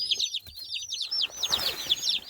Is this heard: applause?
no